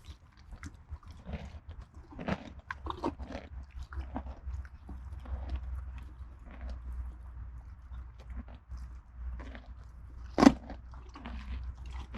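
A horse bites and chews carrots, giving soft irregular crunches and munching close by over a low steady hum, with one sharper snap near the end.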